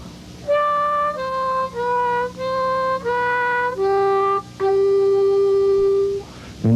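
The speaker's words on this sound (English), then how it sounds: "Now the standard blues riff is another great harmonica pattern." A solo harmonica plays a standard blues riff slowly, moving among 4-blow, 3-draw and 3-blow notes. About six distinct held notes sound close and clear, each separated by a brief gap, ending on a long sustained low note.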